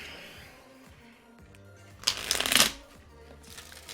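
Playing cards are riffled in one quick, crisp burst, preceded and followed by soft handling rustles close by.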